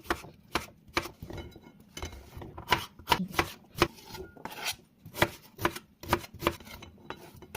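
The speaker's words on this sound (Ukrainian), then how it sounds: "Також дрібно наріжемо огірок." A knife finely chops half a cucumber on a board for a vegetable salad. The strikes come close and quick but unevenly spaced, with soft scraping between them and no voices.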